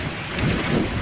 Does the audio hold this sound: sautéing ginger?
no